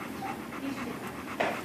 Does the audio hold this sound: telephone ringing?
no